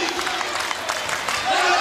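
A volleyball crowd at a 2010 college match, Hawai'i versus New Mexico State, cheers and roars steadily in a large arena, a dense wash of noise that swells slightly toward the end while a commentator talks over it.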